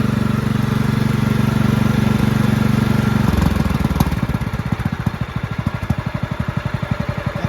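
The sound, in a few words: Craftsman LT1000 lawn tractor engine idling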